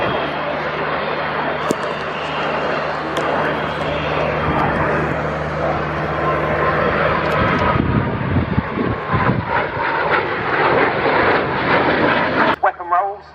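A BAC Strikemaster jet in an air show display whooshes and roars overhead, a steady loud engine noise that shifts in pitch partway through, with wind buffeting the microphone and a commentator talking throughout.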